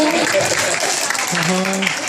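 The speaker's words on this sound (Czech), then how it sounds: "Tak, zatleskejte Michalce, čarodějce." An audience claps for a child in a witch costume at a children's carnival, a brief dense patter of hands with voices mixed in.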